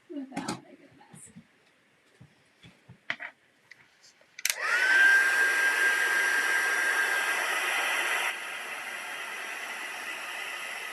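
A handheld embossing heat tool, setting embossing powder in a craft project, kicks on after a few soft handling clicks and blows with a steady, close roar that eases slightly in level near the end.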